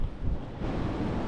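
Unusually large sea waves wash against a rocky shore where boulders poke up through shallow water, a brief steady surf roar mixed with wind buffeting the microphone.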